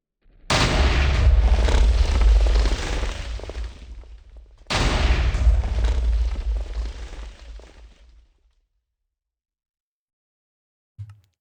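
Two loud, booming energy cannon blasts from the game Jujutsu Craft, each a heavy roaring burst that fades over a few seconds, followed by silence and a brief thump.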